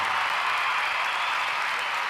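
A stadium-sized crowd roars and applauds in a steady, dense wash of cheering and clapping, loud and continuous throughout with no clear voices standing out.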